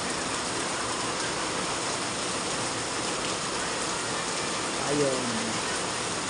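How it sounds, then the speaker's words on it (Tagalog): Heavy rain pours down in a dense, unbroken hiss, steady and loud throughout, with a brief spoken word near the end. "Malakas ang ulan"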